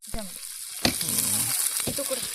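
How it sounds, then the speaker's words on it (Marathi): Fish pieces coated in semolina frying in hot oil, a steady close sizzle and crackle with a few stirring scrapes, no talk. "एकदम भारी रव्यामध्ये बघा फ्राय करते"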